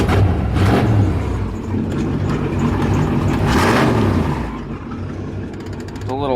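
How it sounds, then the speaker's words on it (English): Engine of a lifted 1994 Chevy K1500 truck with straight pipe exhaust, a loud, steady rumble that swells twice, with no one talking. "It's a little loud, straight pipe."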